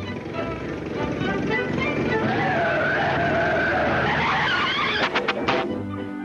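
A cartoon car engine roars past, rising and bending in pitch as it nears and goes by, loud and close, ending with a few sharp bursts.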